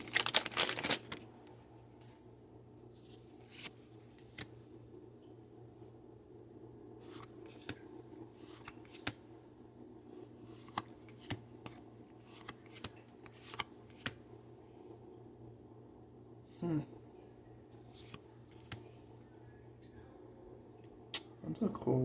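Cardboard and foil packaging of a Pokémon Scarlet and Violet card box crinkles and tears in scattered close bursts, with intermittent faint speech and a steady low household hum underneath.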